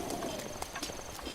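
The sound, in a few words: horse hooves clip-clopping in Breath of the Wild video game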